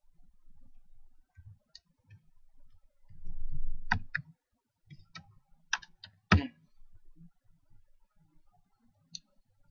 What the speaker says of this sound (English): And type your web address.